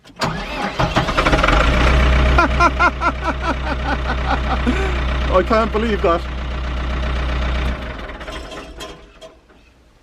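A tractor's engine cranks and fires up, a low heavy rumble that settles into a steady idle before cutting off near the end, while someone speaks over it.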